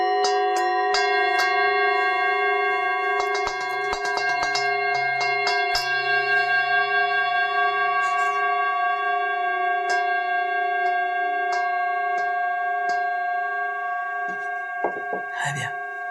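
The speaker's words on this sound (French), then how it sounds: "au son du carillon des bols." Seven Tibetan singing bowls ring out in a meditation setting, overlapping sustained tones layered with repeated struck chimes, resonant and close, with a soft voice speaking briefly toward the end.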